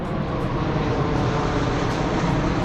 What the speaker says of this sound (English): Why does a plane happen to fly right over?